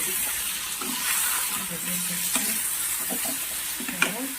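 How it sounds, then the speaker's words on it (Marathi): Stuffed brinjals frying in a pan for a spicy bharli vangi curry, stirred with a spoon: continuous sizzle and hiss broken by scraping strokes and a sharp clink near the end. "याला अशा पद्धतीने हलवून घ्यायचं आहे"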